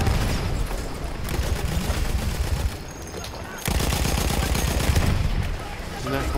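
Rapid bursts of Lewis gun fire in a World War I shooter on the Butte de Tahure map, dense and continuous with a short pause midway, layered over other battlefield shots and booms while players talk.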